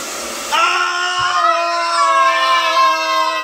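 A hair dryer switches on and runs steadily with a loud, close whine that holds a high tonal pitch throughout.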